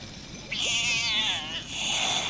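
A single drawn-out, wavering cat meow from the video game Fallout 76 rises and falls over about a second, followed by a shorter second mew, close and clear over a low background hum.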